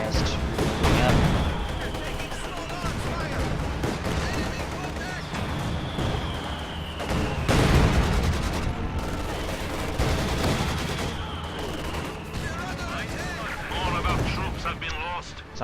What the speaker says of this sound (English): Taking heavy damage from the infantry support gun and mortar.